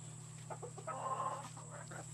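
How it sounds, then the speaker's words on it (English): Backyard chickens murmuring and clucking softly in a pen with a rooster among them, a few quiet low clucks over a steady electrical hum. "I actually hatched every one of these chickens that are in this pen"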